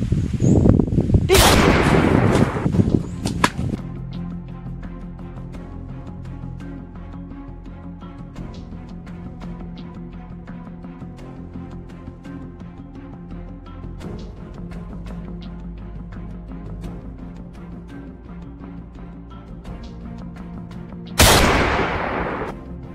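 Gunfire in an Acehnese comedy film: a loud, dense burst of shots opens, a steady musical drone follows, and a second sharp burst hits near the end.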